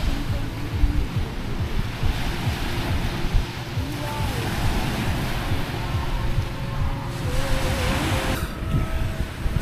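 Ocean surf at a North Shore beach in Hawaii, a loud continuous wash of breaking waves mixed with wind buffeting the microphone, surging a few times across the stretch.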